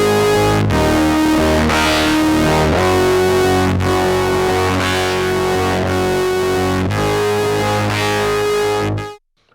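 A synthesizer sequence runs through a Black Swan overdrive pedal, giving a loud, thick and distorted tone. Sustained chords and notes are re-struck every second or so, with no talking, before cutting off abruptly near the end.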